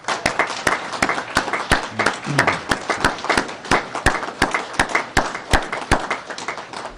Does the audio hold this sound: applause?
yes